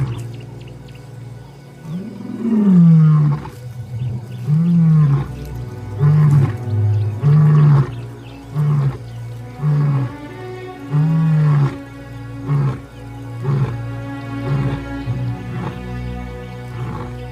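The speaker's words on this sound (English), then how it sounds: "For days, Jericho's contact roars reverberate across the grassland, calling for his brother." A male lion roars on open grassland in a long series of deep, powerful calls, starting with full roars and trailing off into repeated shorter grunting bursts, loud and close with no talk.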